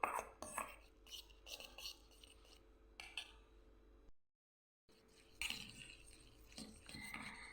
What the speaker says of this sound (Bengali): একটা কাঁটা চামচের সাহায্যে আমি খুব ভালো করে ব্যাটারটাকে মিশিয়ে নেব